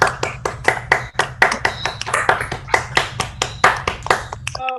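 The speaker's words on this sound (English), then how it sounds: "give Sheril a round of applause" A small group gives a round of applause at an online speaker session, with distinct, fairly close hand claps in an uneven rhythm for about five seconds before they stop abruptly.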